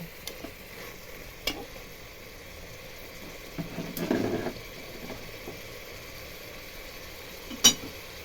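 Hot water poured into a wok of Bengali-style duck curry with potatoes makes a short hissing, bubbling surge midway, set among quiet stirring scrapes and a sharp clank near the end.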